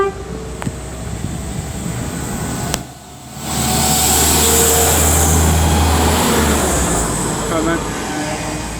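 Class 172 diesel multiple unit passing through Solihull station on the Chiltern Main Line, a loud sustained rumble with a brief dip, then steady roar and whine close by.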